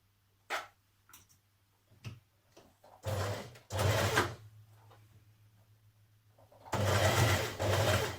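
A sewing machine stitches binding onto a woven Burda 6225 top in several bursts of rapid, close mechanical whirring, with short pauses between runs and a low steady hum throughout.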